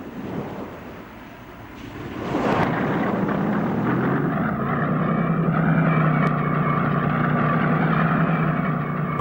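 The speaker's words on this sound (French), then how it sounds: "Des centaines d'avions sont envoyés sur Varsovie" Droning propeller engines of German aircraft flying over Warsaw, a loud sustained roar that swells after a couple of seconds and holds steady with a low throbbing hum.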